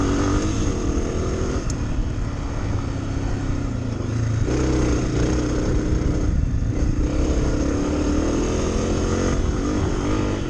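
A 2023 Honda CRF250F farm-style dirt bike runs steadily while being ridden, a loud, continuous low engine drone with slight rises and dips in revs and no speech throughout.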